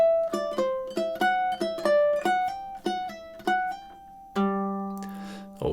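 Close, solo ukulele picks a short phrase from the Nutcracker March in a lively dotted rhythm, ending on one ringing note that fades with a light scrape at the close.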